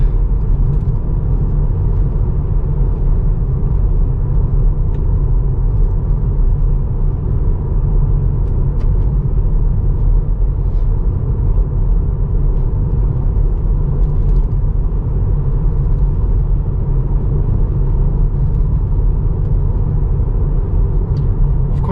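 A car drives along a road with a constant low rumble and engine whir that stays smooth and even throughout, with no talking.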